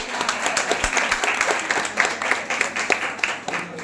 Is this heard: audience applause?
yes